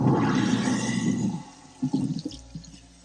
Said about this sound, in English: get all the big pieces out by rinsing my sink